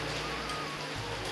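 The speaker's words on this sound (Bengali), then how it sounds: "আর ওইদিকে বৃষ্টি পড়ছে।" Rain falls outside as a steady, dense hiss of close, loud noise through a brief stretch, with no voices.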